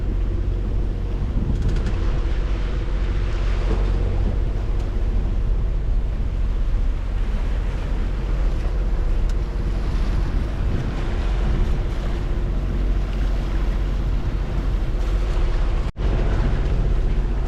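A sailboat under sail at sea while fishing for dinner, with steady loud wash of waves and water along the hull and constant wind buffeting the microphone throughout, no voices.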